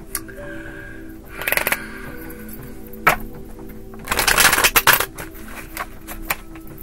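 Tarot cards shuffled by hand, coming as rustling, riffling bursts near 1.5 s, 3 s and a longer dense flurry around 4–5 s, close and moderately loud over a quiet hum.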